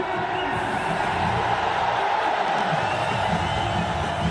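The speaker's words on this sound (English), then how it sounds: "Good crowd in." A large crowd at a Sri Lanka versus India cricket match keeps up a steady, dense roar throughout, a continuous wash of many voices with no single cheer standing out.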